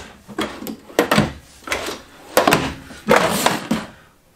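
Cutlery drawers in the kitchen of a 2020 Jayco Talon 335T RV slide open and shut several times, a series of close, sharp wooden knocks and sliding rumbles in quick succession.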